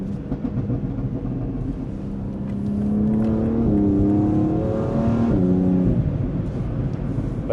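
A 600-horsepower car engine, heard from inside the vehicle, gives a steady drone that rises in pitch as the car accelerates hard, then falls back, alone with no talking.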